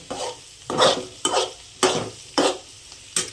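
Onion roasts in a pan, a low sizzle punctuated by about six rhythmic stirring scrapes, each a sharp swish roughly every half second, close and with no voices.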